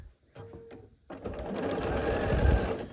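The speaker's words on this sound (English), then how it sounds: "we just keep sewing this row on" Sewing machine stitching rows of a quilt together, a steady close whirring run that starts after a few brief taps and short bursts, then continues loud and unbroken to the end.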